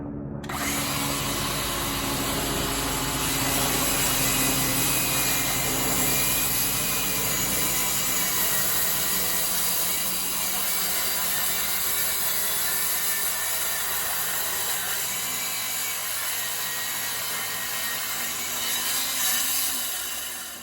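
A saw cuts through wood with a loud, continuous, steady whine and rasp that lasts about twenty seconds, with no speech over it.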